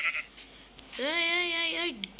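A goat in the video game Minecraft gives a single drawn-out, wavering bleat lasting about a second, clear and close, with faint game ambience around it and no talk.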